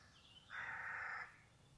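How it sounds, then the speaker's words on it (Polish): A young crow gives one drawn-out, low, hoarse caw outdoors on a quiet morning. The call is moderately distant and rises clearly out of faint background ambience. "To młoda wrona."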